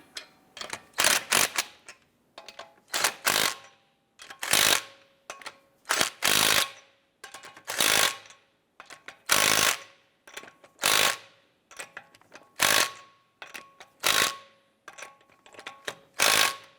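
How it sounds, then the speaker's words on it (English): Wheel lug nuts on a 2012-2017 Toyota Camry get snugged down with a ratchet: loud, close bursts of rapid clicking repeat in an even rhythm, separated by brief pauses. "Once we get all of our lug nuts started, we're going to go ahead and snug them down."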